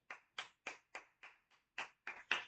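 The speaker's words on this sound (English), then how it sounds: "Give yourself a round of applause." Nine sharp, evenly spaced hand claps from a single person, close and dry with brief silence between each, one noticeably softer near the middle.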